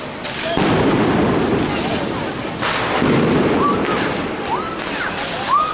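Fireworks bang in the streets during the Fallas festival in Valencia as kids set them off, with repeated loud booming bursts over crowd noise and bright crackling chirps.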